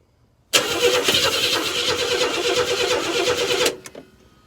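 A small gasoline engine with an old carburetor sputters to life abruptly and runs loud and steady for about three seconds, then cuts out and falls quiet.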